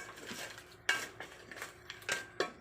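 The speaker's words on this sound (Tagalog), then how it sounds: "Yan, haluin natin ng mabuti." A spoon scrapes and clanks against a pot while crab simmers in coconut milk with oyster sauce, Bisaya style, producing several sharp metallic knocks in an uneven rhythm over a soft bubbling background.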